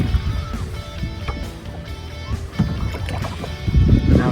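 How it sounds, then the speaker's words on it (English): A kayak paddled across a pond, with soft irregular splashes and water swishes, some wind rumble, building to a louder sloshing near the end. "A little kayaking in the pond."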